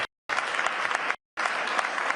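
A World Economic Forum panel audience breaks into applause in two bursts of dense clapping, each cut off abruptly by a short silence, with the crowd sounding moderately close.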